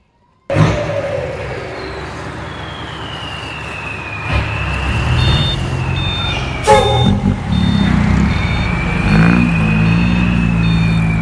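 Excavator scooping soil into a dump truck: a loud diesel engine drones steadily with a rising whine, a reversing beep repeats in the background, and clanks and bursts of revving mark the digging, with no talk.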